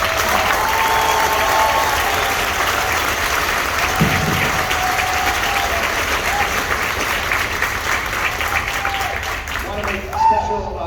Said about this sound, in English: Can we give a round of applause for our drumline?